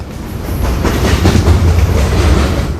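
A train runs on its tracks, passing close and loud, with a dense rolling rumble and a rapid rhythmic clatter of wheels that carries on steadily throughout.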